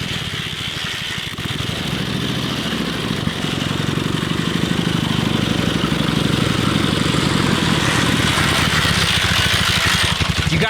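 A vintage Leapin' Lena motorcycle engine runs steadily, a loud, close, rapidly pulsing putter that rises in intensity after a few seconds and holds there, with no voices.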